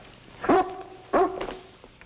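Two sharp dog barks ring out about half a second apart in a sitcom scene, fairly close and clear against a quiet indoor background, followed by a faint whimper.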